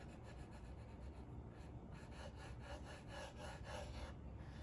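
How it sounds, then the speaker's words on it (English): Fine or micro-fine glitter rubbed by hand into a homemade business sign, a steady scratchy rubbing in repeated strokes, close and fairly quiet with no talk. "And then just rub."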